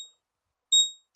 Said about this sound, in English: Just chart alarm went off.